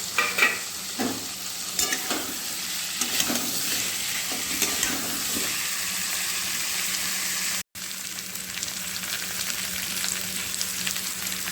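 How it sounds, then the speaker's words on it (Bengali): Fried papaya and potato pieces being stir-fried in masala in a pan for fish curry, with a steady close sizzle and scraping stir strokes throughout, a brief dropout in the middle, and no talking. "এবার ভেজে রাখা পেঁপে আলুগুলোকে দিয়ে দেবো দিয়ে আর একটু কষাবো"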